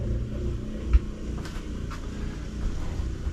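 A low, steady mechanical hum of a caravan drinking-water pump motor churning as it tries to prime after three months of storage, with a brief thump and faint clicks.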